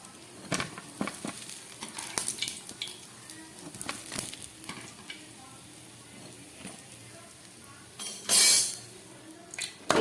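Coriander leaf pakoras sizzle softly in hot oil, with scattered clinks and scrapes of a utensil as they are lifted out onto a tissue-lined plate, plus a brief louder rustle near the end.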